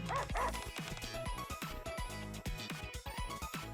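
Cheerful dog barks and yips from the NIKKE: Goddess of Victory game at a beach barbecue, several short bright calls over a steady music bed.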